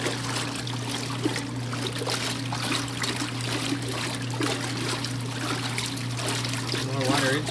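Water splashing and trickling from a vintage machine being unwinterized for the season, a steady wet dribble over a constant low hum, with a person talking throughout.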